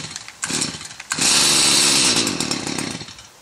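A Stihl HS 45 gas hedge trimmer being pull-started: two short recoil pulls, then the small two-stroke engine catches and runs loud and steady close by before easing off slightly.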